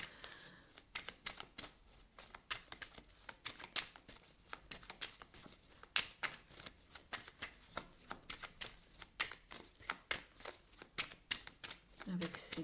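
Tarot cards are shuffled and drawn in a quiet room: quick, close, rhythmic riffling and snapping of cards that continues almost without pause, soft but crisp.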